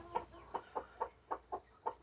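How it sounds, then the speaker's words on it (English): A hen clucks in a steady series of short, soft calls, about seven in two seconds, close by with quiet background. "So the hen's up to eat, scratch a little."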